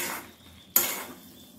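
A metal lid is lifted off a cooking pot of simmering jackfruit curry, giving one sharp metallic clink partway through against a faint background hiss.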